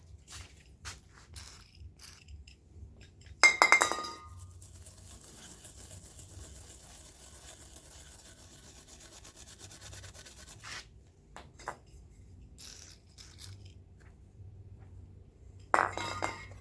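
Someone scrubs the circuit board of an Opel car radio with a toothbrush. The rubbing and brushing comes in bursts with quiet gaps between them, and a few sharper close scrapes stand out.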